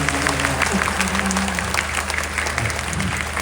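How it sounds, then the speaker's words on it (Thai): A crowd at a temple anniversary celebration for a Thai performing troupe applauds the teachers loudly and continuously, close dense clapping over a low background hum with faint tonal sounds beneath. "ก็ขอทุกคนนะครับปรบมือให้กับพ่อครูและก็แม่ครู ของเราครับ"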